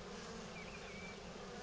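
Bees swarming around an open Kenyan top-bar hive, a continuous close, low buzzing hum with occasional individual bees droning past nearer for a moment, no talking.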